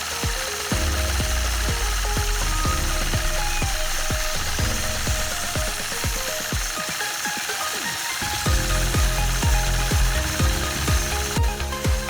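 A sewing machine stitches a pebble quilting pattern with rapid, continuous mechanical clatter, the needle's rhythm repeatedly speeding up and pausing as the fabric is moved, close and steady.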